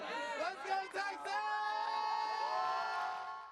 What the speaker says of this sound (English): The Longhorns fed off the vibrant crowd